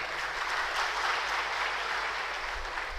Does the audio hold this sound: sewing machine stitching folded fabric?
no